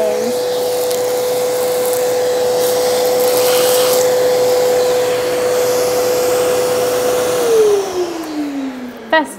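A Festool CT26E dust extractor runs with a loud, steady whine and airy rush, holding an even pitch before winding down toward the end as the motor spins off.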